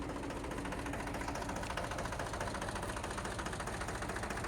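A Mahindra 295 tractor engine runs at about 1000 rpm, a steady close low diesel chug with even rhythmic knocking throughout, no talking.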